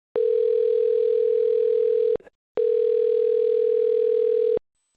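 A telephone line tone sounds during a call on a French phone line: two long, steady, loud beeps, each about two seconds, separated by a short silent gap, with no talking.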